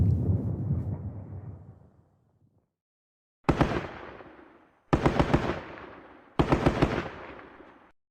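Video game gunfire in Squad Battles Eagles Strike: one sustained rumbling burst that fades out, then a gap, then three loud close bursts of automatic fire in quick succession, each with a short decaying tail.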